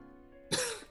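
A single harsh, throaty cough from a character in a video game, short and fairly loud, breaking over a quiet tonal background hum.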